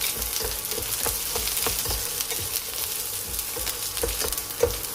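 Curry leaves and tamarind sautéing in a pan, giving a close, steady sizzle with a rhythmic series of soft scraping and tapping strokes from a stirring utensil.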